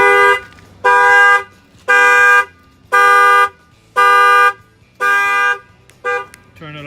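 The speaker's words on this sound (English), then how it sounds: "and that will set off the alarm." A Chrysler Pacifica's shock-sensor car alarm, set off by a bang on the front tire, blares in loud, evenly spaced honks, about six steady pulses with short gaps, close by and alone.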